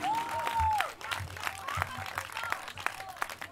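Audience applause after an accordion performance at an outdoor festival, a scattered clatter of clapping hands with crowd voices, starting with a sustained tone that fades out, moderately loud and fairly near.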